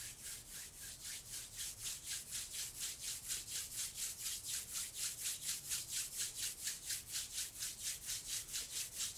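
Palms rub together briskly to build heat, giving a close, steady rhythmic swishing of about three strokes per second that carries on without pause, with no talk over it.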